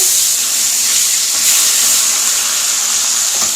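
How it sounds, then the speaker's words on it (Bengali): Steady, loud sizzling and hissing of fish frying in hot oil, continuous throughout with no voices. "এখন এইখানে হচ্ছে মাছ ভাজা"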